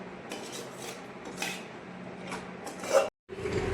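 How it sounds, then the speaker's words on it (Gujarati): Metal spoons clink and scrape against dishes while a tiffin box is packed with chickpeas and corn in a home kitchen, with a steady run of close, light clatters and a short pause near the end. "ચમચી લીધેલા"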